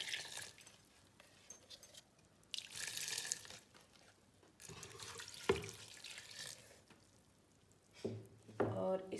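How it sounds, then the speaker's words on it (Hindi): Water poured from a container into a pot of Pahari spearmint (pudina) curry in a home kitchen, a soft splashing and trickling that comes in a few bursts with quiet gaps between, fairly faint. "अब और पानी डाल दूँगी"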